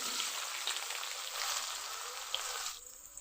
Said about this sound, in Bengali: সামান্য লবণ আর হলুদ দিয়ে ভেজে নিব